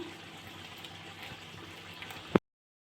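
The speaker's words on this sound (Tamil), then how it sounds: "இதுவும் எல்லாம் போட்டதுக்கப்புறம் கொதிச்சு வருது" Avarampoo kootu, a Tamil lentil dish with avaram flowers, bubbling steadily in a cooking pot, a soft continuous simmer that ends in a sharp clink and then silence.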